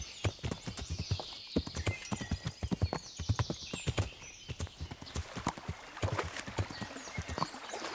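A horse's hooves clip-clop at a steady trot in the video game Kingdom Come Deliverance, sharp close thuds in a regular rhythm with a brief whinny and light splashy texture.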